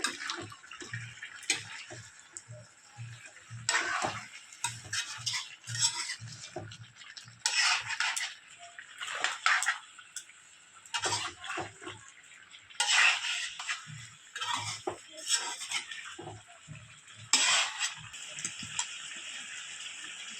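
Chicken is stirred with ginger garlic paste in a pan, giving faint repeated scraping and clinking of a spoon against metal in uneven strokes, with soft sizzling beneath.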